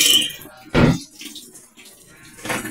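Water rushes into a washing machine through its triple inlet valve in a sudden loud burst, fading quickly, with softer watery trickles and a second surge near the end.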